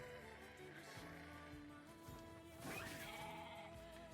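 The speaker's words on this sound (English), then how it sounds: "Fucking sheep." Sheep in a video game give a few wavering bleats over a steady game soundtrack, moderately loud with a short sharp clatter partway through.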